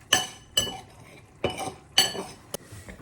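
A utensil mixes flour with sweet paprika in a bowl, giving a few sharp metallic clinks and scrapes against the dish, close and separated by brief pauses, with no voices.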